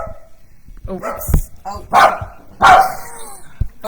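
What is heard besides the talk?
dogs barking excitedly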